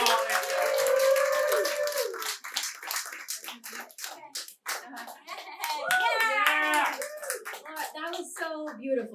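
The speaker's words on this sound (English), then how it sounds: "get the round of applause going for my good friend, Jessica Saul." Live late-night comedy show audience clapping and cheering, with scattered claps mixed with loud voices and whoops that rise and fall, then swell again.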